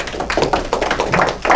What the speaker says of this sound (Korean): 박수 한번 보내주셨습니다